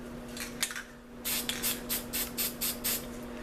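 Short bursts from an aerosol spray paint can of black paint hiss close by: one quick tap, a pause, then a run of about seven even, rhythmic sprays over a low steady hum.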